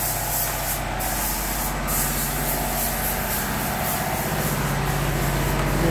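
A spray gun hisses steadily while a Sinotruk truck is repainted during a refurbishment. The loud, continuous rush of spray runs without pause, with a low mechanical hum underneath.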